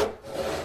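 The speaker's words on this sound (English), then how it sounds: "I think that the best way to cut the miters on these horns is to use my handsaw" A handsaw cutting miters into wooden horns for a cupola, a short continuous rasping stroke at close range with no talk.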